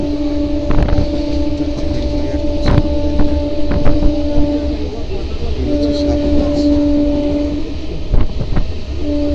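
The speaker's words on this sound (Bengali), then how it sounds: "এটা আমরা আগরপাড়া স্টেশনে পৌঁছে গেলাম। এটা হচ্ছে আগরপাড়া, ঢুকছি।" A commuter train pulls into Agarpara station, its rumbling carriages topped by two long, steady horn blasts, with clattering rail knocks and a voice speaking nearby.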